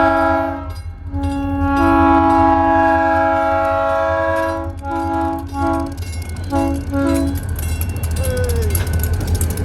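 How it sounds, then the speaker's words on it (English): Up close at a railroad crossing, a passing train blasts its horn in several loud sustained bursts with short gaps, then the rolling rumble of cars carries on alone after the horn stops. "Here comes the train."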